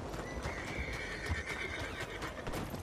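Horse hooves clip-clop steadily in Red Dead Redemption 2, with a rhythmic string of close, even footfalls, a faint whinny woven in, and a soft tonal hum in the background.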